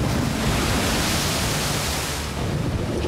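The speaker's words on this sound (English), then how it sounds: "Just in the last 30 minutes, heading out towards the farm, the wind has really picked up." Strong wind roars over choppy sea waves out near an offshore fish farm before a storm, a dense, continuous wash of noise with no break and no voices.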